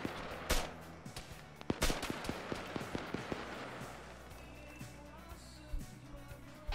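Scattered gunshots ring out in a military video game, with a quick run of sharp, regular shots in the middle and isolated louder cracks before and after, some near and some more distant.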